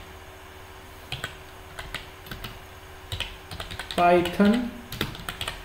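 Computer keyboard typing in quick, uneven bursts of clicks, close and fairly soft, with someone speaking briefly partway through.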